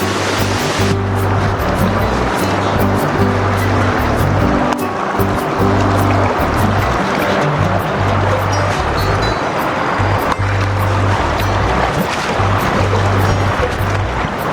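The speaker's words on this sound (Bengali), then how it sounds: "এই মুহূর্তে আমি দাঁড়িয়ে আছি ছোট রঙ্গিত রিভারের মাঝখানে, একটি ছোট্ট জায়গায়।" The Chhoto Rangit river near Bijanbari in Darjeeling rushes loudly and constantly around someone standing midstream. It is a dense, unbroken roar of flowing water, close and full, with no clear voices over it.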